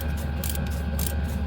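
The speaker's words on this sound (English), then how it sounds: "If you don't have ratcheting wrenches, you probably should, because they definitely save time." A ratcheting wrench clicks steadily as bolts are snugged down, its rapid mechanical ticking close and continuous over a constant background hum.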